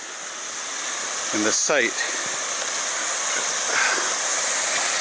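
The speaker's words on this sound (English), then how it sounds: "Lots of running water today." A stream of running water pours through a railway track culvert by milepost 29 on the E&N Railway on a foggy day, giving a steady broadband rush throughout. Someone speaks briefly over it.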